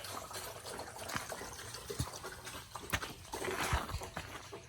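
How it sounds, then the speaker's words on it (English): Water from a pool pump rushes and splashes steadily into a tank, a continuous noisy flow with occasional soft knocks and gurgles. "And I'm filling up this tank here with water."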